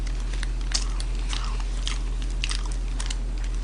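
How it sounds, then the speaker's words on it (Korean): Someone bites into a Burger King hamburger up close, with crisp, crunchy chewing bursts repeating in an irregular rhythm over a steady low background hum. "아삭아삭 씹히는 거"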